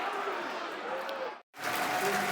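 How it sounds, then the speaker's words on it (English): Football crowd at a Millwall versus Burnley match applauds a substituted player, a broad roar of clapping and murmur that briefly drops out before resuming, with faint voices mixed in. "Good applause for him."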